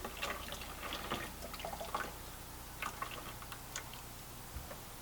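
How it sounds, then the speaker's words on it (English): Wort runs off into a small white dish during a home craft brewing session, heard as faint, quiet trickling and scattered drips over a low background hum. "So I'm just going to start to run off my wort."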